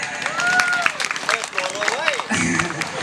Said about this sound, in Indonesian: tepuk tangan yang meriah dulu untuk saya